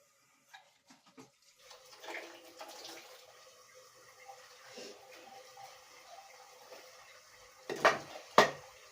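Eggs being washed under a running kitchen tap, water splashing faintly with soft clinks and a couple of louder gushes near the end.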